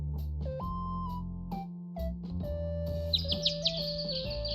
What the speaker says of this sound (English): It had been replaced by warm winds and the songs of chirping birds.